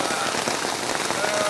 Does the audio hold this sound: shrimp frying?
no